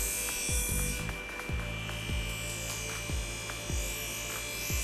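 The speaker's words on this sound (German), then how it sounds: "Mit sanftem Druck ist nun die Klinge in steilerem Anstellwinkel über die Polierscheibe zu führen." Knife blade pressed gently against a spinning polishing wheel at a steep angle, a whirring motor hum broken by repeated short grinding sweeps as the blade makes contact, roughly once per second, close and fairly loud.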